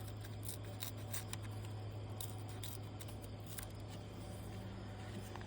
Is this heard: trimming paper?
yes